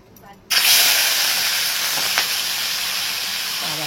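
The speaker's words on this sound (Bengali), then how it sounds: "এইবার ওই তেলের মধ্যেই চিংড়ি মাছ ভেজেছি।" Shrimp frying in hot oil in a home kitchen pan, a sudden loud sizzling hiss that starts abruptly and holds steady and close, with a sharp pop partway through.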